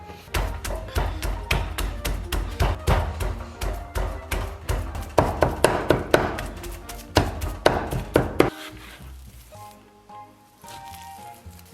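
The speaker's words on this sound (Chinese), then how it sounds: "然后接下来剁成肉馅儿" Sliced meat chopped into mince with a knife on a chopping board for zha jiang noodles: rapid, loud, close-up chops in a steady rhythm for about eight seconds, then the chopping stops.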